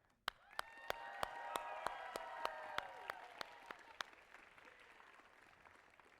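An audience at the opening ceremony of a school tournament cheers and applauds, a broad swell of whooping voices with sharp, evenly spaced loud claps standing out above it before the noise fades away.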